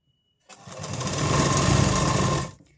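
A sewing machine stitches piping onto a blouse, a steady close whirring run of about two seconds that starts abruptly and stops just as sharply, with no talk over it.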